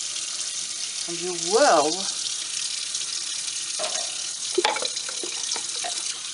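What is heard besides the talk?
tap water running while rinsing a container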